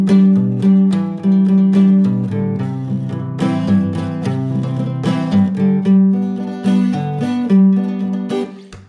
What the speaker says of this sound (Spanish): ¿cómo es el rasgueo? Lo toco un poco y suena así